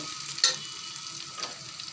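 Raw jackfruit pieces fry in hot oil with a steady soft sizzle, broken by a couple of brief scraping stirs in the pan, close and moderately loud with no talking.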